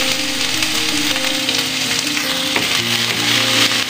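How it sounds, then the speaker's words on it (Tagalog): Onion sautés loudly in a pan, a close, dense sizzle that holds steady throughout over a tonal background hum. "Yan, igisa ko ang sibuyas."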